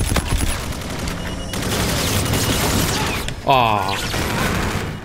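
Rapid gunfire bursts from a first-person shooter video game played in hardcore mode, crackling in clusters over dense game noise, with brief exclamations from a player.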